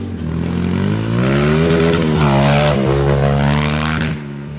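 Modified Kawasaki KLX 125 motorcycle riding off-road through a forest, engine loud and close, revving steadily with its pitch climbing and dipping as the rider works the throttle, then easing off at the end.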